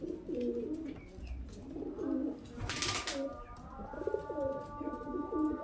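Several Murshidabadi Giribaz pigeons coo in low, rolling bursts that repeat every second or two, fairly close, with a brief hiss of noise in the middle.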